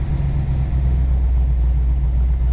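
A 1956 Corvette engine idles nearby, a steady low rumble holding an even, unbroken pulse with no voices over it.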